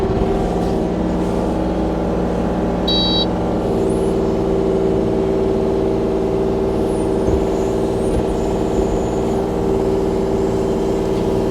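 A 2020 Kubota KX033-4 rubber-track mini excavator runs its hydraulics in 2-speed with several functions at once, giving a loud, steady engine and pump drone with faint whines and clicks throughout, no talk.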